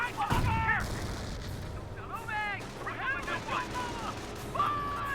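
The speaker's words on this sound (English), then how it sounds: "Throws a frag grenade on top of them." A frag grenade blows up in Company of Heroes, a single sharp booming blast right at the start, followed by a commentator talking over faint battlefield sound.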